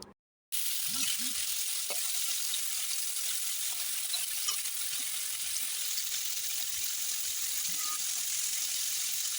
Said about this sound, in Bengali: তো চলো এবার পনিরগুলোকে ভেজে নেওয়া যাক